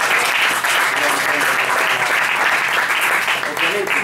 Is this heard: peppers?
no